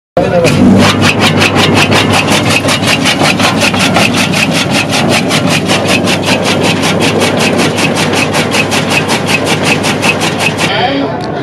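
An electric-motor chaff cutter machine runs loud and close, its blade chopping in a fast, even rhythm of regular strikes over a constant motor drone for about eleven seconds.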